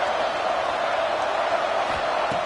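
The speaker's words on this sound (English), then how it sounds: "this crowd is fired up. Listen to this noise here." A fired-up crowd at a college football game between Iowa State and Virginia Tech roars in a steady, dense wash of cheering and noise, loud and continuous without a break.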